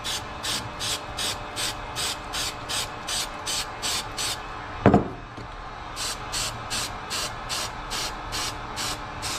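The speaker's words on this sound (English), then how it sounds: "So we're gonna go ahead and spray my pipe." Rapid rhythmic hissing bursts of hairspray sprayed onto an intercooler pipe, evenly spaced and close, broken midway by a single sharp clatter before the spraying resumes.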